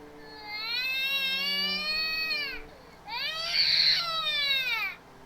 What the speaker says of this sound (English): A pissed off baby.